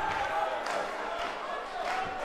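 Wrestling crowd at an N.E.W. Brawl show giving a mixed reaction to a wrestler, a steady roar of voices with scattered shouts, loud and close throughout.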